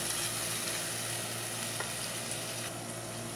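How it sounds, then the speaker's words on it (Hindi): Potatoes fry in a spice masala for aloo pulao, giving a steady, even sizzle close by with a few faint stirring clicks. "अब इसको अच्छी तरह हम मिक्स करेंगे इसको हम दो मिनट भूनेंगे मसाले में"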